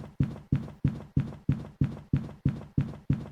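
Ghost footsteps of a shade in the video game Phasmophobia: a steady run of eleven evenly spaced, thudding steps, loud and close, with no other sound between them.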